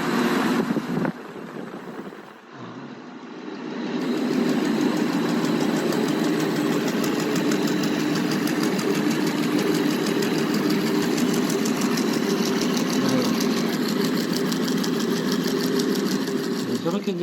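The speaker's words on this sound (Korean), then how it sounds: "저렇게 이제 벨트가 파닥거리는 소리가 날 정도로 저렇게 돼서는 안 돼요" Steady mechanical whirring of a blower and rapid fluttering slap of a slipping, loose V-belt, constant and fairly loud, with a brief dip near the start.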